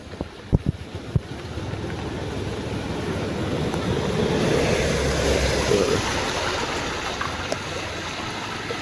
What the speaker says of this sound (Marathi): साईडने सगळं पाणी येतंय.